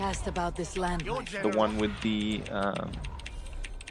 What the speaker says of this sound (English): you can probably hear my keyboard in the background here going nuts